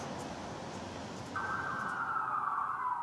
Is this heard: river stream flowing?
no